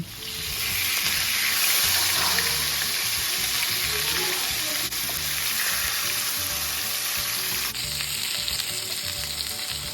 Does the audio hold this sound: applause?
no